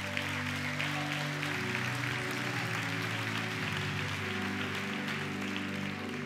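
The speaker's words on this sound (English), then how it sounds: "Give the Lord a hand clap of praise" A church congregation claps in praise during a service: a continuous wash of many hands clapping at once, held steady over sustained keyboard or organ chords that shift pitch partway through.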